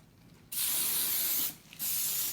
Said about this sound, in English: go ahead and spray it with your hairspray